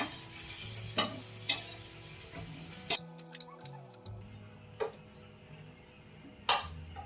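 A spoon stirs and scrapes ingredients roasting in a pan for a pea and potato gravy, with soft sizzling under scattered sharp clinks and knocks against the pan.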